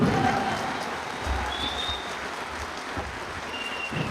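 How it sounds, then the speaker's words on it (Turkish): Applause at a meeting of local tradespeople, a diffuse crowd clapping at moderate distance, fairly quiet and steady, with a faint murmur of voices beneath. "tüm esnaf arkadaşlarımıza büyük bir alkış almak istiyorum."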